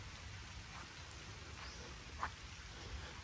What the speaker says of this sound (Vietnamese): Trời đang mưa, mưa lâm râm.